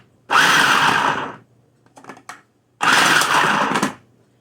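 A food processor slicing vegetables for ratatouille in a home kitchen, two loud whirring bursts about a second each, separated by a pause with faint clattering in between.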